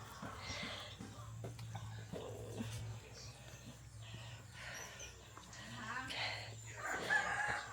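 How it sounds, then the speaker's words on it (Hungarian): A rooster crows and chickens cluck in a village setting near the Amazon, with a steady low hum and a dog barking, mid-distance and fairly faint, and people talking at times. "Csirkék"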